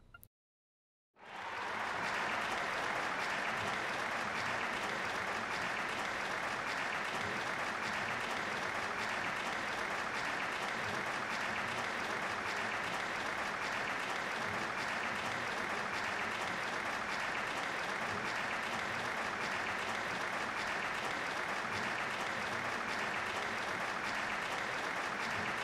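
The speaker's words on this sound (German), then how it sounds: "Komischer Klatschrhythmus, den die da haben, oder?" Sustained audience applause in the Trails of Cold Steel video game, a dense, steady wash of clapping with an oddly uniform rhythm that starts abruptly after a brief silence and continues loud and unbroken throughout.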